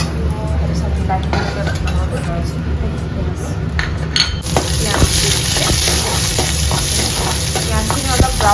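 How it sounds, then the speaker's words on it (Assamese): Onions fry and are stirred in a pan for a fish dish, making a continuous sizzle with scraping utensil sounds that turns noticeably louder and brighter halfway through, while a person talks over it. "পিঁয়াজখিনি অলপ ব্ৰাউনিছ কালাৰ হ'বলৈ দিওঁ"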